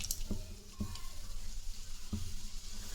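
Urad dal sizzles in hot oil in a pan, a continuous soft frying hiss broken by a few sharp stirring clicks and scrapes.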